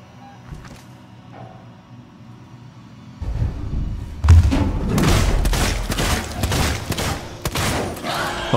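Revolver fire in the Alien Isolation video game: a burst of loud, booming shots in quick succession, rising out of a quieter rumbling stretch and continuing in several sharp cracks over a loud background.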